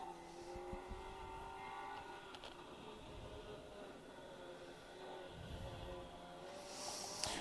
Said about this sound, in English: So making their way around the log pile and down the hill. It's the little Citroen C2 R2 Max of Lucy Wigley and Emma Cooper.